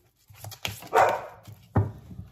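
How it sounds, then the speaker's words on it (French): Dogs bark in short, loud bursts near the microphone, with a quieter yelp or whimper between, as household dogs answer neighbours' dogs; no talking. "Je suis désolée pour le groupe de mes chiens qui se répondent entre voisins."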